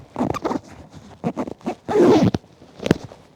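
Zipper being pulled closed on a Rynox Stealth Evo 3 riding jacket, several short rasping zips in quick bursts followed by one longer sustained pull, close and fairly loud with no talk.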